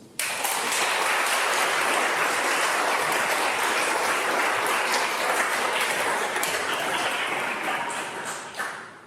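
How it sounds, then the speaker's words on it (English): Dense, sustained applause from a lecture audience at Reuben College fills the room steadily for several seconds, then thins slightly at the end, with no talking over it. "it deserves a round of applause"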